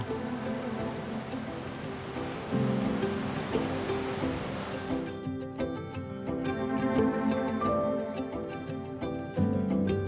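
Clear water of the Lutica river flowing in the Tara River Gorge, a steady broadband rush that carries on without pause and turns brighter and more splashy partway through, no voices.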